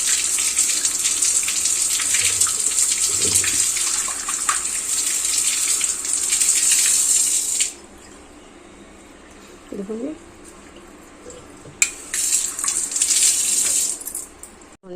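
Tap water runs steadily while brass and copper puja vessels are rinsed in a home kitchen, a continuous hiss that stops partway, then returns in short bursts, with brief faint voice sounds.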